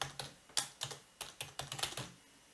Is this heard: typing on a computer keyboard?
yes